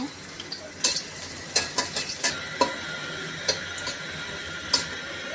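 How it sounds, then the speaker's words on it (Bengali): Onion frying in a little oil in a wok, a soft steady sizzle under a run of sharp spoon or spatula clicks against the pan, close and fairly quiet, with no talking. "আমি এখন অল্প একটু তেল দিয়ে দিব একটু পেঁয়াজ দিয়ে দিলাম বাগার ওঠানোর জন্য"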